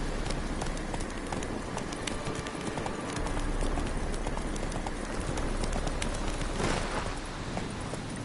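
A horse galloping in The Witcher 3: Wild Hunt, hoofbeats in a fast continuous clip-clop rhythm, fairly quiet and steady, with no talk over it.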